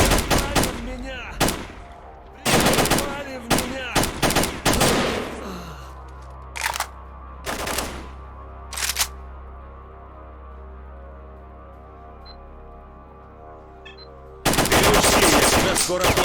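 Gunfire in the video game Stalker Lost Alpha, loud close bursts and single shots in irregular clusters, with quieter gaps of ambient hum between volleys and a final sustained burst.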